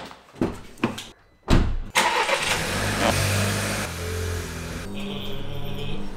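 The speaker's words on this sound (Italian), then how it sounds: "sposto la macchina che ingombra troppo qua dentro." A car engine cranks with a few sharp starter bursts, catches and roars into a revving idle, then settles into a steady running hum as the car is moved inside an enclosed garage box.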